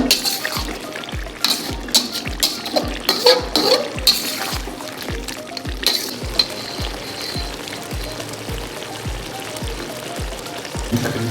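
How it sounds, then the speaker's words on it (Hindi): Green chicken simmers and fries in a thick masala gravy while it is stirred, giving a steady close sizzle with bubbling, and a scraping stir repeats at a regular rhythm throughout. "साथ हिलाते रहें ताकि चिकन नीचे लगे नहीं, मसाला ग्रेवी जो है नीचे लगे नहीं है।"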